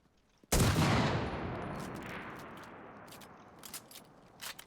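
A single heavy anti-tank rifle shot fired at a tank in a video game, a sharp loud blast at the start followed by a long decaying rumble and a few faint clicks afterward.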